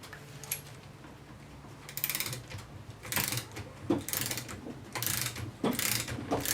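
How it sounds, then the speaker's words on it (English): An adjustable spanner winds a nut onto a Porsche 928 front strut, giving a series of close, soft ratcheting clicks and metallic scrapes in short bursts over a low background hum. "with the adjustable spanner I should be able to put on there like that"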